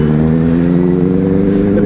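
Motorcycles racing through traffic, a KTM Duke 250 among them: a steady, loud mid-pitched engine drone with a slight rise in revs, heard close and continuous.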